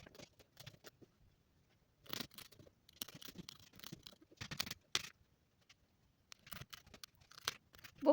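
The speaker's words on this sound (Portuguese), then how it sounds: "Conforme você vai aplicando a agulha, né, a lã vai se entrelaçando e fixando na cabecinha." A felting needle jabs wool hair into a rag doll's cloth head, giving soft, scratchy crunching pokes in irregular bursts, some quick and clustered, with short quiet gaps between them.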